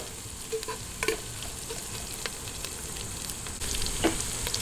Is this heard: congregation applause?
no